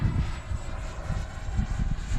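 An FMS Rafale 80mm EDF radio-controlled jet flies past with a continuous rushing ducted-fan roar outdoors, buffeted by gusty low rumbles and no voices.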